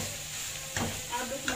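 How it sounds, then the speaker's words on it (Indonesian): Chicken pieces being stirred into a pan of dried spices as they fry for mie ayam, a soft steady sizzle with a few scraping stirs of a utensil against the pan. "kita bisa masukkan ayamnya ini"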